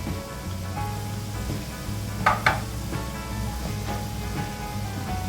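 Mustard seeds and urad dal crackle and sizzle in hot oil in a village kitchen, a steady close frying hiss with a few sharp pops and small spatters rising over it.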